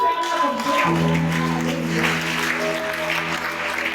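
A congregation applauding during a church service, steady clapping under a sustained organ-like chord and a voice speaking over it, the sound full and continuous throughout.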